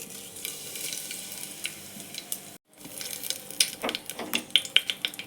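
Curry leaves, coriander and mint hitting hot oil for vegetable biryani, a close crackling sizzle broken by a brief dropout, then sharper popping spatters and light stirring clinks.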